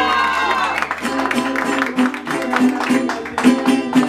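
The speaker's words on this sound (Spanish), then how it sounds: "Y ese aplauso." A crowd claps and cheers at a quinceañera celebration with a mariachi band, steady applause with occasional whoops rising over sustained musical tones and background voices, loud and close throughout.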